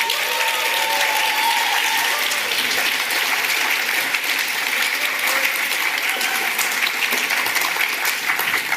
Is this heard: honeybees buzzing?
no